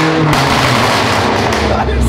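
Rebuilt 720-horsepower BMW M5 engine roaring close up, loud and sustained with a sharp rise in pitch partway through as it revs.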